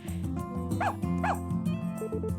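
Floppy-eared dog in Story of Seasons: A Wonderful Life, two short, bright, cartoonish barks close together over cheerful game music.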